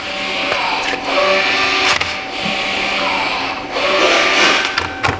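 The electronic parking brake motor on a Ford Edge whirs through apply and release cycles, a close mechanical buzzing in short bursts with clicks between them.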